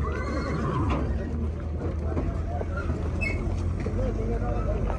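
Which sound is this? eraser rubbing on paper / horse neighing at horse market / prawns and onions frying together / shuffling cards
horse neighing at horse market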